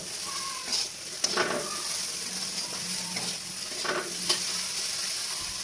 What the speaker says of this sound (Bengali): এবার একটু আমি ভাজা ভাজা করবো এটাকে।